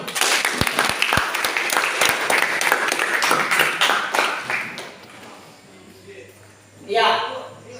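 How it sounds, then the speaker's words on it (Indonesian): An audience at a teacher-training session applauds a participant's answer with brisk, dense clapping for about five seconds. The clapping then dies away, and a voice briefly follows near the end. "Tepuk tangan dulu"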